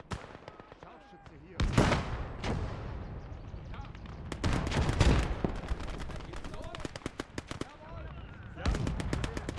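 Grenades and gunfire in the World War II strategy game Gates of Hell, with loud booming explosions and rapid crackling shots in dense bursts, a voice talking over parts of the battle.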